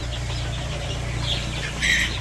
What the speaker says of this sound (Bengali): ওই যে মুরগি খাইতেছে